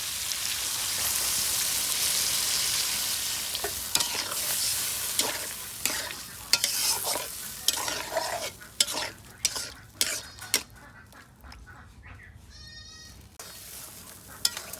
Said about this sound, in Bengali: এখন সামান্য মাত্র একটু জল দিয়ে দেবো।